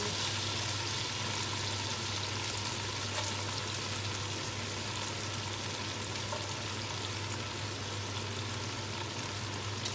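Onions sizzling steadily in a hot pan for an Irish stew, a continuous soft hiss and crackle at low level with no talk.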